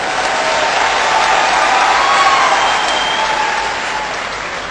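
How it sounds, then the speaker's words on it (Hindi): A large audience at a political rally breaks into sustained applause, a dense, steady roar of clapping that stays loud throughout, with a slight easing near the end and no speech over it. "ताली बजाओ तो फिर अच्छे ढंग से बजाओ।"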